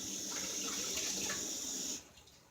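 Tap water runs steadily from a kitchen faucet as a tin can is rinsed under it, a loud close hiss that stops abruptly near the end.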